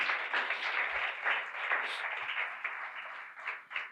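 An audience applauds a pastor with steady, dense clapping that holds for several seconds before thinning slightly, heard fairly close and without talk over it.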